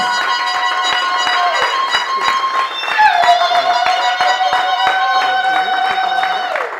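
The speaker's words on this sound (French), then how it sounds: "On applaudit très très très fort, très fort, très fort." Steady rhythmic clapping keeps an even beat at a traditional wedding, blending with sustained music and voices throughout.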